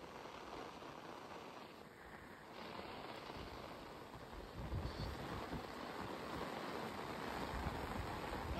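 Heavy rain pours down at a buffalo dairy farm, a dense, steady hiss that swells slightly louder in the second half, with no voices over it.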